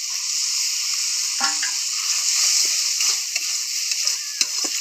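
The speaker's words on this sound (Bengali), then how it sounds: "এবার মশলাটাকে ভালো করে কষিয়ে নেব।" Spices and chopped tomato with a splash of water stir-fry in a pan with constant sizzling, broken by repeated scraping strokes of a spatula close by.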